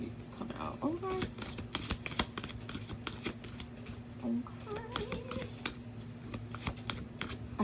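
A deck of astrology cards is shuffled in a string of crisp, rapid riffles and taps, close and fairly quiet, with a faint voice now and then in the background.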